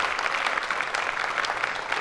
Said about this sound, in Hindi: असद साहब के लिए बहुत तालियां